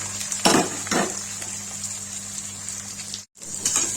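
Onion drops into hot oil where cumin seeds are crackling, giving a steady frying hiss with a couple of sharp clattering utensil hits near the start and a brief break near the end.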